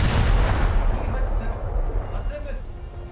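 Heavy naval shell gunfire and explosions from a warship video game, a continuous rumbling barrage of booms that is loud at first and slowly eases, with a voice faintly present underneath.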